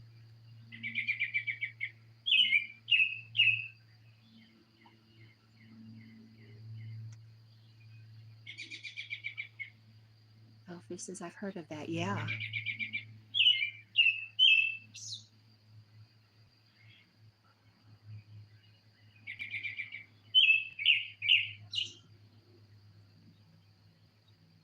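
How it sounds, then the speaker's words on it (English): Birds calling in bursts of short, high chirps and trills on a back porch in the evening, over a steady low hum, with a brief louder rattling call midway and people talking briefly. "Especially this laughing bird I've got."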